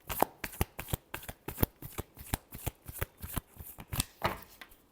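Tarot deck shuffled rapidly and steadily for several seconds, a dense run of sharp papery card slaps close to the ear, with no talking.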